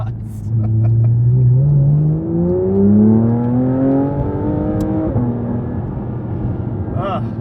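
A Porsche 992 GT3 RS engine climbs in pitch through a loud, close rev over about three seconds, holds a high wail, then eases off and fades, with a voice talking over it.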